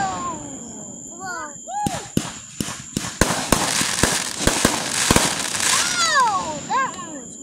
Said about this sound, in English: We need more rapid explosions.